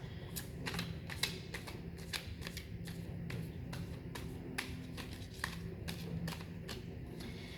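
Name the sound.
shuffling tarot cards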